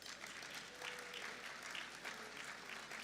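Gala dinner audience applauding steadily for about three seconds, a dense mid-level wash of clapping hands with no speech over it.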